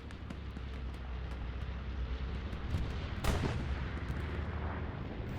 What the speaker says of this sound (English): I do hear another bombing run closing in though.